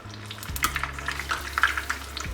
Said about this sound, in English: You can see how the oil is rising as you put these cold falafels inside,